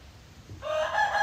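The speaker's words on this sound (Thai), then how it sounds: "ของแท้ต้องมีเสียงไก่ขัน" A rooster crows faintly in the distance, the call starting midway and rising over a quiet background.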